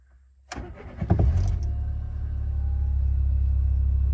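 A €200 Renault Clio starting after sitting through winter: a short burst of starter cranking catches within about a second, then the engine settles into a loud, steady idle rumble close by.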